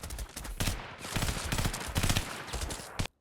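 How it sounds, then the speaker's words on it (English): Assault rifle fire from the cheap shooter game Island Combat comes in several rapid bursts of loud shots. Short pauses separate the bursts, and the last one ends abruptly. "Island Combat is a game where you shoot enemies."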